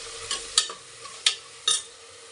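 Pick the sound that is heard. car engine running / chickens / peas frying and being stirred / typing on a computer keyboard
peas frying and being stirred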